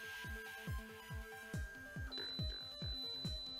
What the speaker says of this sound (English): Click last to bring it back to position 2, and the alarm will go off again.